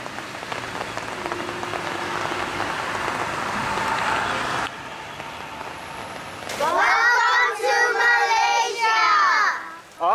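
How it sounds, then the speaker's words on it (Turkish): A tropical rain shower in a Malaysian park, a steady hiss of rain falling on surfaces that gives way partway through to loud, rhythmic insect or bird calls in the foreground. "Serinleyen bir yağış oluyor."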